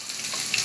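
Chicken pieces for dragon chicken go into hot oil and fry with a soft, steady sizzle and faint crackles, short and fairly quiet.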